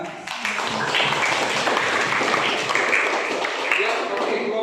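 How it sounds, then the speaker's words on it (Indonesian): A classroom group claps together in a dense, steady round of applause lasting several seconds, with no pauses. "Oke, tepuk tangan."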